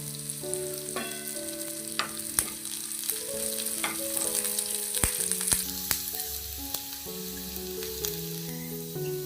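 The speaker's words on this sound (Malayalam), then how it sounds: "ഇപ്പോൾ ചുവന്നുള്ളി കാഷ്യൂനട്ടൊക്കെ നന്നായിട്ട് മൂത്ത് വന്നിട്ടുണ്ട്" Shallots, cashew nuts and a sprig of curry leaves frying in hot oil for a Kerala-style chicken stew: a continuous soft sizzle with scattered crackles and pops, and faint background tones over a low hum.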